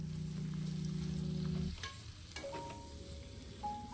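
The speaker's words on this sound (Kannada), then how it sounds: "ಅವನ್ನ ಒಂದು ಸ್ವಲ್ಪ ಎಣ್ಣೆಗೀಗ ಫ್ರೈ ಮಾಡಿಬಿಡೋಣ್ರಿ" Chopped carrot, cabbage, capsicum and onion hit hot oil in a pan with a soft steady sizzle, broken by a few clanks and scrapes of stirring.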